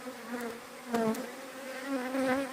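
Close, wavering buzz of honeybees gathered at sugar syrup set out for them in the open, individual wingbeats swelling and fading as bees fly past, with no talking.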